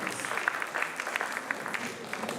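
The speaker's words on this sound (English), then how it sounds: "So a special round of applause for her." An audience at a multicultural stage show claps for the stage manager, a continuous, moderately quiet round of applause with scattered sharper claps standing out throughout.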